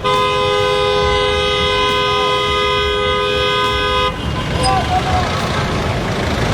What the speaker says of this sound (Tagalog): may isang modern jeep na pilit gustong tumabi at bumusina ng malakas